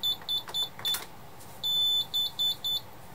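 An ITI SX-V security alarm panel beeps during a phone test dial to the central station, giving a series of short, high electronic beeps followed by several longer tones in an irregular rhythm, close and clear against quiet room noise.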